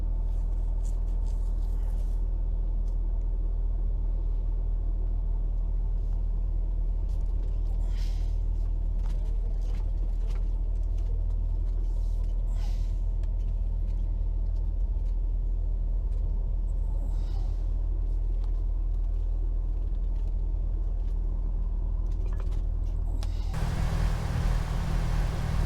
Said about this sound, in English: There's lorries coming off and lorries trying to get on the boat at the same time.